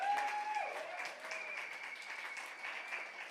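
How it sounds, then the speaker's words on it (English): Crowd applause at a birthday rally for Reverend Dr. Al Sharpton, a steady wash of clapping from a large audience that stays fairly even throughout, with a brief tone near the start. "give a thunderous applause"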